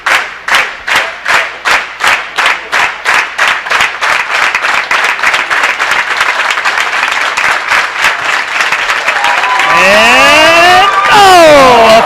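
Crowd applause at a men's doubles medal round of a bowling world championship, starting as distinct rhythmic claps that swell into steady loud clapping, with a sliding whistle-like sound rising over it near the end.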